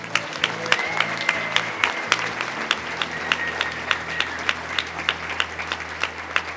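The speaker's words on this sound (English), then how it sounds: "A round of applause for Molly O." An audience at the 2024 Michigan Journalism Hall of Fame ceremony applauds warmly. The clapping is dense and sustained, with crowd murmur underneath and a few louder individual claps standing out near the microphone.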